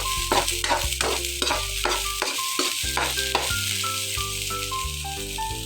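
Onion and garlic frying in a pan are stirred continuously, a steady sizzle under repeated scraping strokes of the utensil, close and loud, with no talking.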